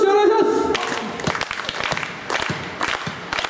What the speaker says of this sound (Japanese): 手拍子お願いします